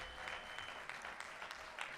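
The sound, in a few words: audience applause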